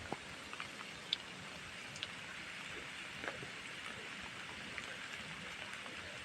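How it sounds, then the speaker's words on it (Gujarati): Heavy rain pours down over farmland in a steady, even hiss of drops, with occasional sharper taps and no voices, fairly faint overall. "અને વરસાદ જો ધોમ શરૂ થઈ ગયો છે ત્યારે."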